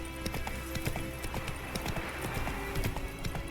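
Roach the horse gallops in The Witcher 3, a steady rapid clip-clop of hooves with a faint snort, heard up close and alone with no talking.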